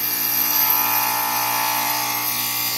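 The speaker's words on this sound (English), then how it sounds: "I'm making a tremendous amount of noise with the grinder right now." A glass grinder working stained glass gives a constant, loud high-pitched whine with a gritty edge, close by and unbroken for a few seconds.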